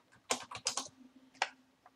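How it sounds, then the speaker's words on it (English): A quick burst of clicks on a computer keyboard, several close, crisp keystrokes in an irregular rhythm, followed by a pause and a couple more taps, quiet and close up. "Afterwards, you want to type"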